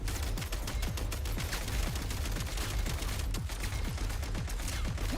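Rapid gunfire from a gun in Genshin Impact, a continuous fusillade of sharp shots with booming low impacts, loud and steady throughout with no talking.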